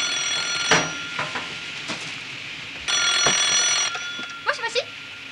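An old telephone bell rings in a Japanese rice shop in a TV drama, in two distinct bursts of bright metallic ringing with a pause between them, while people talk nearby.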